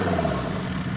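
A Mercedes-Benz S-Class converted to an off-road diesel gives a short, low engine rumble up close, a brief rev-like swell that settles within a second.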